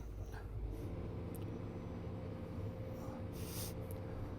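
Komatsu PC210 excavator diesel engine revving up, a steady loud low rumble with hum bands held throughout, plus a few brief hiss bursts near the end.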